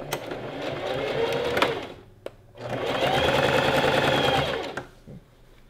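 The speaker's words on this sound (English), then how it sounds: "we're just gonna sew this part down" Sewing machine stitching the bodice of a gathered maxi dress, two steady loud whirring runs separated by a brief pause, close up.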